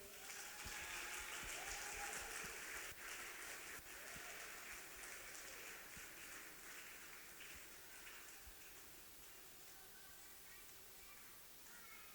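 Audience applause at a church Sunday school service, a dense, steady patter of many hands clapping that fades slightly over several seconds, heard faintly and at a distance.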